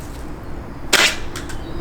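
A single sharp pop near the middle of a short stretch of background hum, as a toy gun shot bursts a balloon in an indoor shooting game, followed by a couple of faint clicks.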